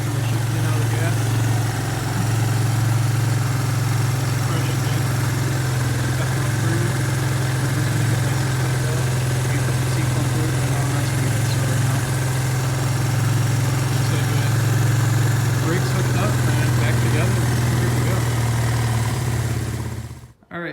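Suzuki ATV engine idling steadily at close range with a constant low rumble and no change in pace, ending abruptly as it shuts off; a voice may speak faintly underneath.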